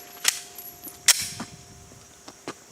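A Glock pistol fires outdoors: two sharp, close cracks about a second apart, followed by fainter distant echoes and a few small clicks.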